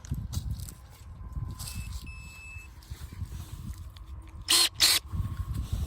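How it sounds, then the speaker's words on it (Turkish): Electric pruning shears snip grapevine in a vineyard, giving two sharp, close cutting snaps in quick succession over a low rumbling outdoor background with faint electronic beeps. "Şimdi biraz makasla keselim. Makası da izleyelim."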